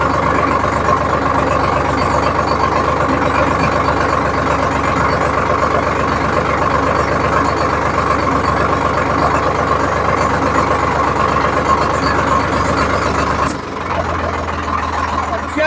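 A Sonalika 745 tractor engine runs with a loud, steady, heavy drone that holds throughout, then shifts to a lower, changed tone near the end.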